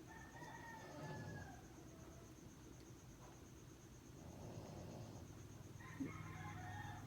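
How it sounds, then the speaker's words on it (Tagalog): Roosters crow and chickens cluck at dawn around 5 a.m. The sounds are faint and distant, above a steady background hiss, with one brief louder call near the end. "Maingay na mga manok dito guys kasi maaga na kasi."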